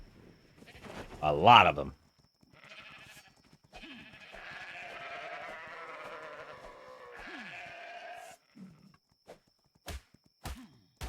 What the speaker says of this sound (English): There's some sheep, a whole bunch of them.